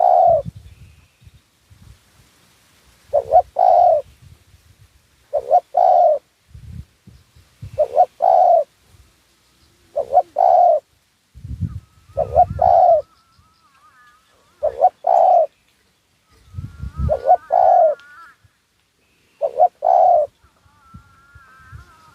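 Repeated soft coos from a zebra dove in short phrases, spaced every couple of seconds, fairly close, with faint low thumps between them and otherwise quiet surroundings.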